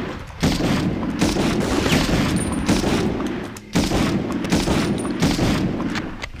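Gunfire from the PlayStation 1 game Medal of Honor: a dense, sustained volley of shots with booming low end runs almost unbroken, dipping briefly twice before resuming at full loudness.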